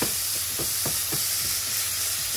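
Thick lardons frying in a pan for a quiche Lorraine, a steady close sizzle with a broad hiss and a few soft scraping stirs, no talk.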